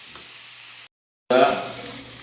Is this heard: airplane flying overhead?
no